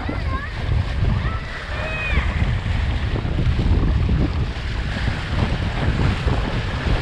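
Strong wind buffets the microphone while windsurfing on the Ottawa River at Black Bear Beach, a loud, gusting roar with water sounds beneath and a few faint whistles, while people talk over it.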